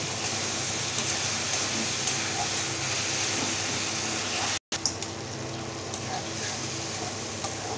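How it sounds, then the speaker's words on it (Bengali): Cumin and coriander powder are sautéed in oil for egg biryani, making a steady broadband hiss and sizzle close by, broken by one short silent cut midway. "হাফ চামচ জিরা গুঁড়ি, হাফ চামচ ধনিয়া গুঁড়ি দিয়ে ভালো করে একটু কষে নেব।"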